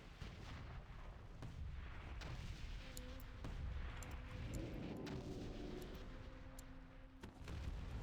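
Heavy gun or cannon fire rings out from mounted guns in a video game, a dense barrage of booming shots and blasts that stays loud and continuous, with no talk over it.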